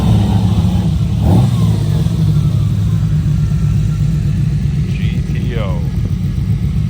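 A Ferrari 250 GTO Series 2 engine rumbles steadily at a classic car show, a continuous low drone that runs under constant nearby talk and crowd noise.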